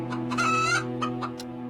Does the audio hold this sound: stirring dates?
no